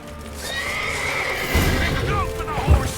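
A horse neighs in a Witcher 3 video game scene, a long whinny rising over clip-clop hooves and thumps, with combat shouts and game audio layered around it.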